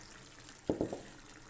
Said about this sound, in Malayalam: ഇനി പുളി ഒഴിച്ചു കൊടുക്കാം.